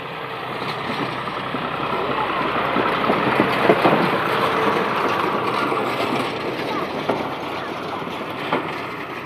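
Combine harvester working a paddy field, its engine and machinery roaring steadily at close range with rattling and clanking as it turns, under a person talking.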